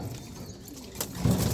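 Pigeons coo nearby, with a short, low throaty coo rising near the end after a quieter stretch of faint background noise.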